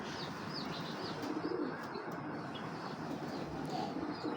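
A big-bodied female pigeon coos softly and steadily at close range, with faint chirps and light wing rustles blending into a continuous background hum.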